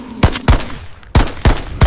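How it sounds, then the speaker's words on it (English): Six sharp, loud gunshots crack out in two spaced groups of three, each with a brief ringing tail, close by with no talk between them. "Shots fired!"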